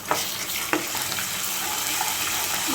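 Ginger garlic paste, about a teaspoon and a half, fries in a pan with browned ingredients, a loud, continuous close sizzle with a couple of brief taps early on and a steady watery hiss underneath.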